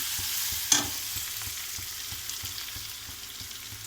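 Ginger garlic paste fries in hot oil with turmeric, a close continuous sizzle marked by a sharp clink early on and regular soft stirring knocks.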